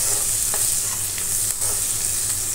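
Curry masala with mint and coriander sautés in a pan for a quail and cashew curry, giving a steady, close, even sizzle with faint stirring scrapes and no voices.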